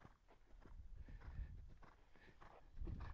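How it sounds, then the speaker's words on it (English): A green showjumping horse canters in training, its hoofbeats thudding in a quick, rolling rhythm. They sound faint and somewhat distant over a low rumble of background noise. "Let him canter a bit more now."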